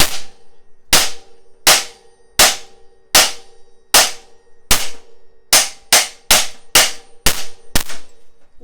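Sharp metallic hammer strikes drive out a Trek BB92 press-fit bottom bracket from a bike frame, about a dozen loud ringing clangs in a steady rhythm that quickens toward the end, each with a brief decaying ring.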